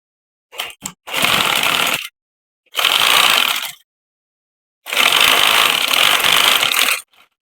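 A sewing machine stitches fabric for a triple knot turban in three loud, close bursts: two short runs, then a longer one, with brief starts and stops between them.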